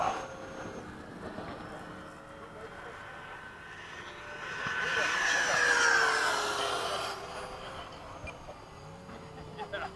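FMS 80mm Hawk model jets flying in formation, giving a thin ducted-fan whine that swells to a loud pass mid-clip and then fades back into steady background whirring.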